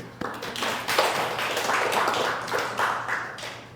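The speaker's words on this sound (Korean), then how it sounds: "다시 한번 박수" A church congregation at Sunday worship applauds, a dense burst of clapping that starts suddenly and carries on steadily at close range.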